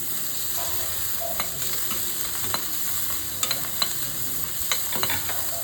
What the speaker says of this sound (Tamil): வெங்காயம் வதங்கிடுச்சு கொஞ்சம் கொத் கொத்தமல்லி போட்டுக்கலாம் இஞ்சி கொஞ்சம் போட்டுக்கலாம்